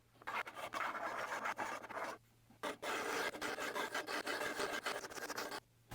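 A file runs along the fret edges of an Ibanez guitar neck in quick repeated rasping strokes, close and steady, with two short pauses and no talking.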